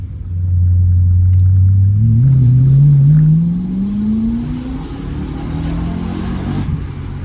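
A BMW M3 E92 drives while the engine rises steadily in pitch under load, a loud close rumbling pull that eases off and settles into a lower steady drone.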